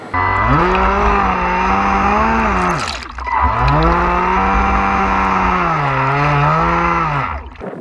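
A radio-controlled boat motor runs steadily on a lake with a loud, continuous whine that rises and falls in pitch; it dips briefly midway, then revs back up, and no one talks over it.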